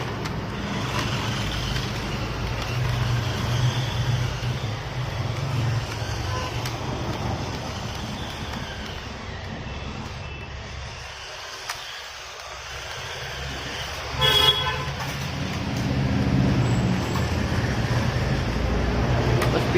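A JJRC 73 toy-grade RC buggy drives outdoors, giving a continuous moderate motor whine with a steady background rumble that dips briefly midway and then swells again.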